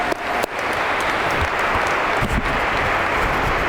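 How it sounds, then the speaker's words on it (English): An audience claps at a police academy graduation ceremony in Essex County, a dense, steady round of applause from a large crowd that swells right after a brief sharp start and holds evenly for several seconds. "give yourselves another round of applause"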